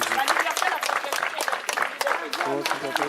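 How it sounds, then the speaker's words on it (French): Applause from a gathered community crowd, clapping steady and moderately loud with voices mixed in throughout. "Applaudissez."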